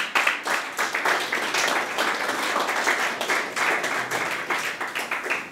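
A church congregation claps together through a service, the applause steady and dense with individual claps audible throughout, fairly close and continuous with no speech over it.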